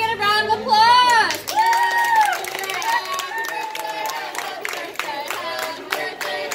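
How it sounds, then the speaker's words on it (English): Restaurant crowd at a Red Robin bursting into clapping and cheering for a birthday, with energetic voices and rhythmic applause spreading through the room. "Can I get a round of applause?"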